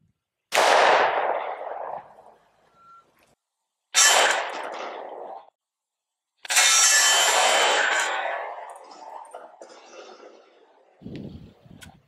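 Three heavy, loud handgun shots fired with hard cast lead bullets at Level IIIA body armor and a micro plate carrier, each a sharp crack trailing into a long rolling echo, spaced a few seconds apart outdoors.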